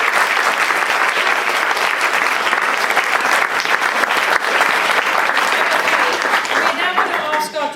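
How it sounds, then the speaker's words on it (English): A panel audience breaks into sustained, loud applause from a crowd, steady clapping filling the room throughout before thinning slightly at the end. "Can we have a round of applause for this panel?"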